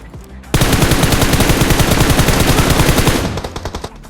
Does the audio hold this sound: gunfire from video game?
yes